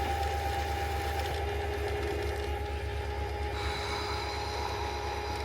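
A sewing machine stitching thick calico fabric, a steady close mechanical drone with a continuous rapid chatter and no pauses.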